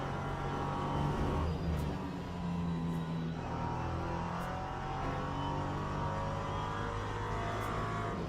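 A GTE race car in a racing video game at Fuji, its engine droning steadily and loudly with shifting harmonic pitch as it accelerates, playing on its own with no voices.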